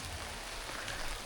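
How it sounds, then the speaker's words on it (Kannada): Heavy rain falls steadily outdoors at a resort in Coorg, a dense, even hiss of drops on surfaces throughout, with no voices. "ಫುಲ್ ಮಳೆ ಇದೆ, ಈ ರೀತಿ ಇದೆ ಆ್ಯಕ್ಚುಲಿ."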